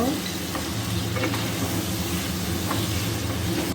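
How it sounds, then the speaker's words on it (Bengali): Potatoes and pointed gourd with a little turmeric fry in a pan with a loud, dense, continuous sizzle, broken by a few light stirring scrapes. "হলুদ দেব অল্প এখন নেড়ে নেব"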